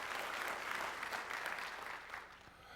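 A university audience gives another round of applause. It is a faint, steady wash of many hands clapping, slightly distant, with no talk over it.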